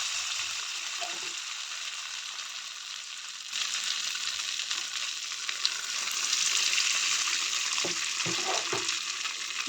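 Mustard seeds sizzle in hot oil in a pan for an egg curry, a continuous close hiss that grows louder partway through, with a few soft knocks and stirring sounds and no talk.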